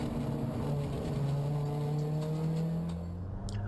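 Puma race car at speed on the Oulton Park circuit during a Cartek Puma Cup race, a steady loud engine drone with a sustained tone holding across the whole stretch, a fainter high whine fading toward the end.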